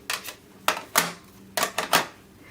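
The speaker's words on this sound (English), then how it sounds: "I want to go ahead and die cut these next." A die cutting machine cutting paper cards for vintage-style postage cards: a series of sharp, close clacks and short grinding passes, about six distinct bursts spaced irregularly, with no talk.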